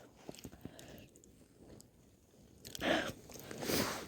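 Someone eating Ukrainian army ration food outdoors, with crisp close bites and chewing, a few soft clicks, then louder crunching bursts near the end.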